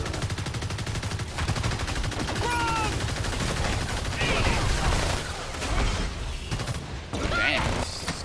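A big gun fires continuously in the monster-hunting video game Evolve, a dense, sustained rattle of rapid shots with booming hits, loud and unbroken throughout, with occasional game sounds on top.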